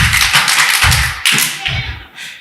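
A church congregation claps hands together in praise, a dense run of loud, overlapping claps in rough rhythmic bursts, close and steady with brief dips between clusters.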